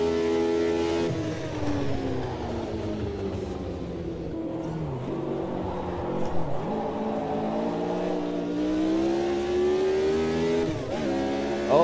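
Race cars in a sim racing game rev steadily through changing gears while warming cold tyres, a continuous layered engine drone with rising and falling pitch sweeps, close and loud throughout.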